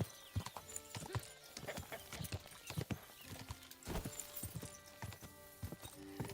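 In the video game Kingdom Come Deliverance 2, a horse's hooves clip-clop in a steady, uneven walking rhythm, close and fairly quiet, with a brief whinny mixed in.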